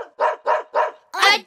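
Four short synthetic dog barks from an electronic keyboard, in a quick, even rhythm, the last one brighter and slightly longer.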